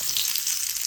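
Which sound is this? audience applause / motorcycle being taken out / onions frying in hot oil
onions frying in hot oil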